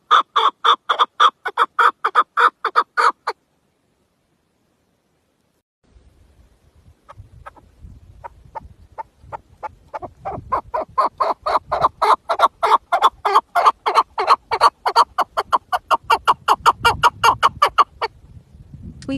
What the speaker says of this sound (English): sweet voice of the Chukar bird